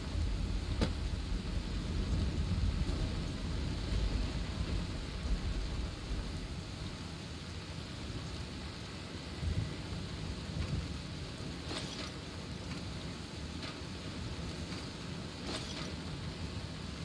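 Rain and thunder in the video game Fallout New Vegas: a steady rain hiss throughout, with low rumbling thunder that is heavier in the first few seconds and then eases, plus faint crackles near the end.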